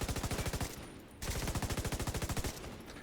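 Sustained automatic gunfire from a video game, fired to suppress enemies, rattling in two fast rhythmic bursts separated by a short gap, loud and close with no talking.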